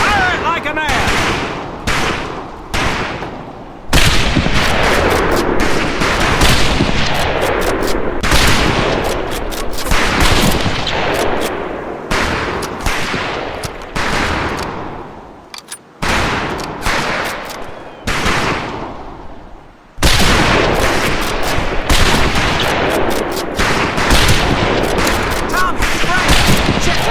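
Rifle fire on a training range in the Medal of Honor 2 video game, loud sharp shots in rapid succession with dense overlapping gunfire and a voice talking through it.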